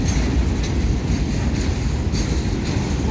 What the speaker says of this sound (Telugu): చూడండి, ట్రైన్ స్లోగా వెళ్తుంది కాబట్టి మనం క్లారిటీగా చూడగలుగుతున్నాము.